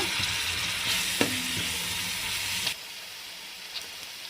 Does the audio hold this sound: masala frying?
yes